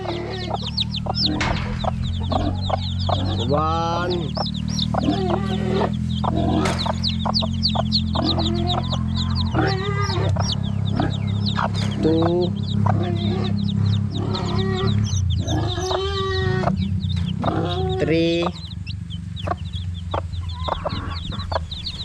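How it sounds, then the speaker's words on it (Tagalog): Small chicks peep rapidly and continuously at close range on a farm, with steady clucking and rustling from adult fowl underneath, and no voices present. "Ayan na yung mga sisiw."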